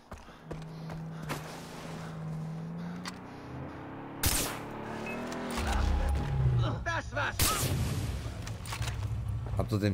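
Gunfire in Far Cry 3: a couple of sharp, loud cracks stand out, one around the middle and one later, amid vehicle and game ambience with someone talking over it.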